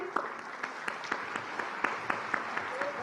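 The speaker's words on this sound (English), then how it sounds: "The applause should keep coming." Scattered applause from a literature festival audience at an award presentation, fairly sparse clapping with distinct individual claps in a loose rhythm, heard from a short distance.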